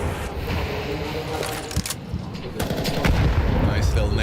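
Counter-Strike 2 gunfire and HE grenade blasts during a Shanghai Major 2024 esports match, with dense rapid shots and bursts, sharp cracks and a heavier boom near the end, while commentators talk over the action.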